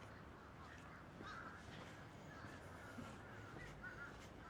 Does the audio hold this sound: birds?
yes